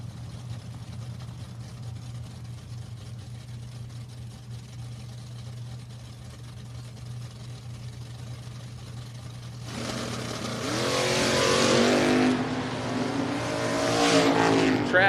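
A Camaro drag race car at a drag strip: a low, steady idle drones for several seconds, then the engine suddenly bursts into loud, harsh revving and launching, surging twice near the end.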